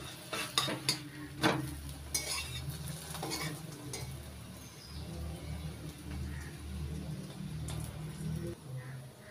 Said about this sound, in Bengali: আমি এখানে সাদা তেলে ভাজছি, আপনারা ঘি দিয়েও ভেজে নিতে পারেন।